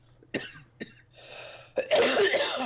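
A few short, dry coughs in quick succession, followed by a harsher, longer cough, close to the listener.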